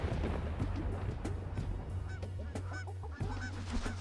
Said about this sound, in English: Another great experience is watching thousands of magpie geese erupting from a billabong.